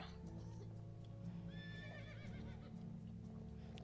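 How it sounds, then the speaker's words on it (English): A horse in a medieval life-sim game neighs with a rising, wavering whinny midway, amid soft clip-clop and ambient game sounds at low level. "Hi, horses."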